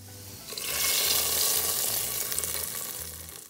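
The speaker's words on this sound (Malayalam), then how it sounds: "അണ്ടിപ്പരിപ്പും മുന്തിരിയൊക്കെ ഒന്ന് നെയ്യിൽ വറുത്ത്" Cashews and raisins fry in hot ghee with a bright, crackling sizzle that swells after a soft start and keeps bubbling steadily, accompanied by occasional low thumps from stirring; no talking.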